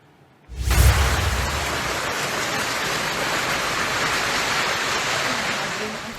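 Heavy rain and strong wind lash Barangay Maasin in Leyte during a tropical storm, a dense steady roar that surges in after a brief quiet start and holds loud and unbroken.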